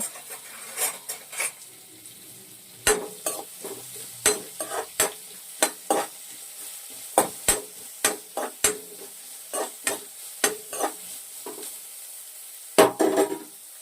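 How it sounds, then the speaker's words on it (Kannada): Finely chopped onions frying in a pan for paneer tikka masala, stirred with a spatula in repeated sharp scraping strokes over a soft sizzle, close and rhythmic, with no talking. "ಚಿಕ್ಕ ಚಿಕ್ಕದಾಗಿ ಕಟ್ ಮಾಡ್ಕೊಂಡಿರೋ ಈರುಳ್ಳಿನ ಆ್ಯಡ್ ಮಾಡಿ ಫ್ರೈ ಮಾಡ್ಕೊಳ್ಳೋಣ"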